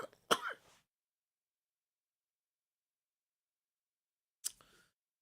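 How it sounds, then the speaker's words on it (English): A single short cough, or throat clear, from a tickle at the bottom of the throat, close and sharp, followed by silence and another brief throat sound near the end. "my cough is like a little tickle at the bottom of my throat"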